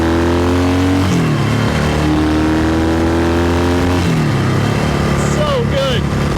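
A 1972 Yamaha XS2 650cc motorcycle engine idles steadily, with a couple of brief revs lifting the pitch before it settles back, heard close throughout with faint chirps in the background.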